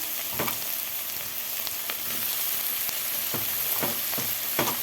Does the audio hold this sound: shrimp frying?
yes